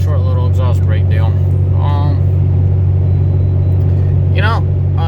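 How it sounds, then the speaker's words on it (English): A 2014 Ram 3500 diesel pickup towing about 23,000 pounds gross with its exhaust brake engaged on a downhill, a heavy steady low drone inside the cab, loud and constant, while someone talks over it. "Short little exhaust brake deal."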